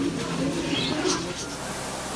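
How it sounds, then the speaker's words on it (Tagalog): A loft full of racing pigeons gives off low, continuous cooing and murmuring, moderately loud and steady, with a voice mixed in over the birds. "Ayan, napakadaming ibon ni Sir."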